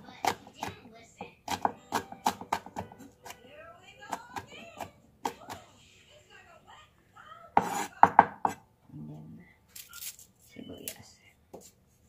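Onion pounded in a small mortar for Ilokano pinakbet, a series of sharp close knocks in irregular bursts, with a person talking between and over the strikes.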